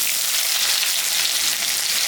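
Bright, steady sizzling of onion frying in hot mustard oil with dried chilli and cumin, loud and close, with no talking.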